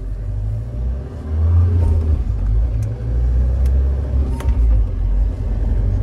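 An old Mahindra Thar engine rumbles and revs under load as it drives up onto a road divider. The low growl surges and eases over and over, with faint clicks above it.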